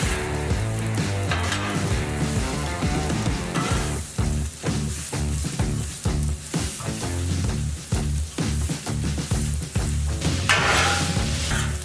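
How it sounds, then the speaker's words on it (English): Fajita vegetables sautéing in a hot pan, a steady loud sizzle throughout with rhythmic stirring and scraping sounds layered on top. "I'm just gonna saute these down for a little bit"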